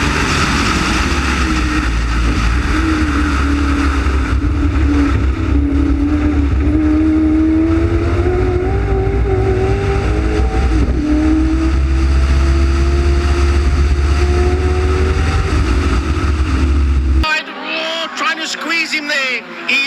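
Racing cars, including a Ford Escort Mark 1, roaring around a circuit with a sustained loud engine drone and shifting pitch, ending abruptly near the close while a commentator speaks.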